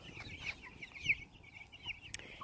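Young chickens cluck in a short series of soft calls scattered over steady farmyard background noise in an outdoor fenced area, with no one speaking.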